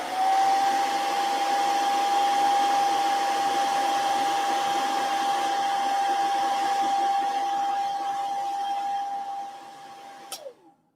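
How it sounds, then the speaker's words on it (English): A hair dryer runs continuously at close range while drying paint on a miniature, a steady whine with an even airflow hiss, then switches off and winds down near the end. "can't go wrong with the hairdryer."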